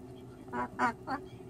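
A voice imitates a duck, giving three nasal quacks in a quick row, close and fairly loud over a low background hum.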